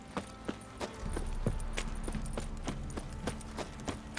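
Horse hooves clip-clop in The Witcher 3, a steady rhythm of sharp hoofbeats at moderate volume over a low ambient game background.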